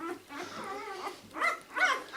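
A Berger Blanc puppy gives a few short, high barks and whimpers close by, with brief pauses between them.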